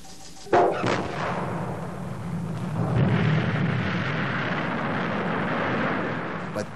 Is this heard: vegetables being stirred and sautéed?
no